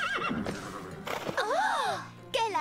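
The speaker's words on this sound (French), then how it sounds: "Et voilà mon cheval, Merveille." A cartoon horse lets out a long, wavering whinny with rising and falling pitch, then a brief second neigh, mixed with background music and voices talking around it.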